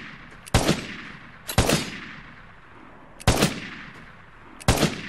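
A combat magnum fired in the video game Vigor: four sharp, loud single shots spaced about a second or more apart, each followed by a brief decaying echo, with no talk.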